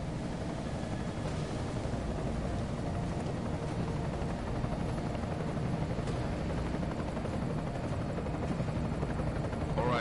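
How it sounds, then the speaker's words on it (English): An enemy helicopter flies in Deus Ex: Mankind Divided, a dense, steady rotor roar that holds loud and unbroken throughout, with no voices over it. "Enemy helo sighted."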